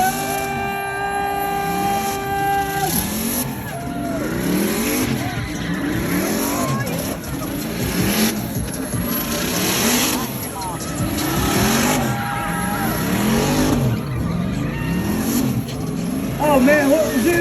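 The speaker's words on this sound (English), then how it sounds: "You gonna sing some sweet V8 songs for us, Hurt?" A V8 car engine accelerates hard, its loud snarling pitch climbing and dropping again and again as it runs through the gears. People cheer and talk over the roar.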